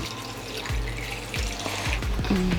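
Tap water runs steadily into a pot for chicken noodle broth, a close continuous splashing and gurgling stream with a slight rise in pitch as it fills.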